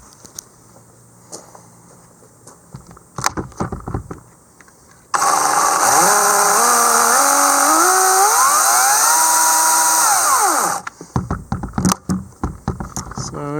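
A Dewalt 40V battery chainsaw runs loud and steady for about six seconds, its pitch sliding up and down as the trigger is worked, with quieter handling noises before and after.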